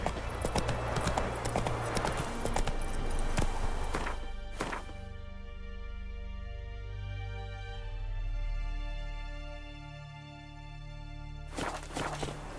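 Hooves of the horse Roach clip-clopping in The Witcher 3, a steady close rhythm of thuds for the first few seconds, then fading under sustained music before returning briefly at the end.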